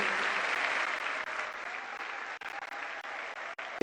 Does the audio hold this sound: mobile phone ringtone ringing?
no